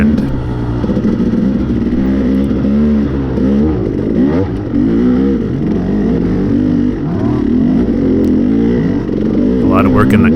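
A dirt bike on a slick, muddy motocross track at Russell Creek, Greensburg, Kentucky, revs loudly and continuously close by, its engine note rising and falling as the throttle is worked, with a rider's voice partly audible.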